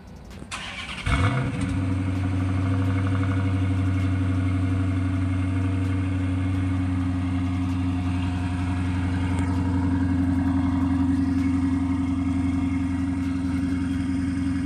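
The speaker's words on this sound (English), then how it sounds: "It's been a minute since I've done a cold start" A car engine cold-starts with a brief cranking whine, then settles into a steady, loud, low idle that drones on evenly for over ten seconds without voices.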